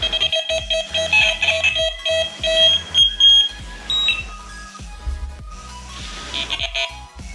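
Delkim fishing bite alarms sound in a run of sharp electronic beeps at several different pitches, close and clear, with brief pauses between bursts.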